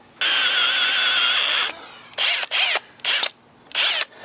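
A handheld power drill whirs in one long sustained run, then in four shorter bursts with pauses between, loud and close while boring holes to mount an off-road light bar.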